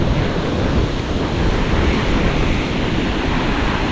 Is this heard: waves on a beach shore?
yes